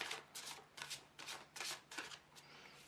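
Psychic Tarot cards being shuffled in a series of about six soft, brisk riffling bursts at a steady rhythm, close and quiet with no talking.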